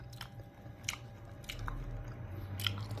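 Food is chewed close up, with several distinct crunchy bites and soft mastication noises over quiet background hiss, and no talking.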